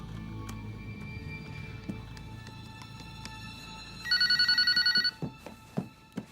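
A telephone bell rings in a short loud burst of rapid repeated trills near the end, following a stretch of background music and scattered knocks.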